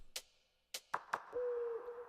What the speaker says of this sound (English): Added in an owl sound.